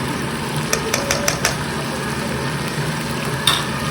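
Ginger paste and spices frying in a pan and being stirred: a steady low sizzle with a few quick clinks of a utensil against the pan early on and another near the end, no talk.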